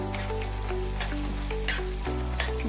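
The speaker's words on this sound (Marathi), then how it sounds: "आता हे सर्व आपल्याला यामध्ये सोडून टाकायचं तेलामध्ये" Ingredients for sabudana khichdi drop into hot oil in a pan and sizzle steadily, with occasional sharp crackles and stirring scrapes standing out over a low hum.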